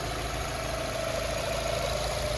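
A 2017 Nissan Rogue engine idles steadily with an even, continuous hum and a faint low rumble, no voices present.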